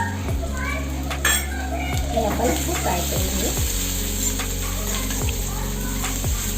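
Chilies drop into a hot pan of garlic and ginger for dry paneer chilli, giving a steady sizzle with clinks of a utensil against the pan. A voice talks over it and a child can be heard faintly in the background.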